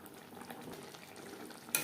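Capsicum cooking in gravy in a pan, a faint soft bubbling sizzle close by, ending in a brief louder clatter of a utensil.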